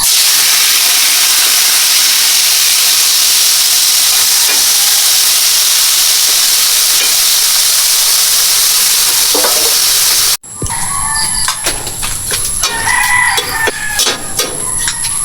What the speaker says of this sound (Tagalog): Lagay na po natin yung ating piprito yung islang tawilis mga idol.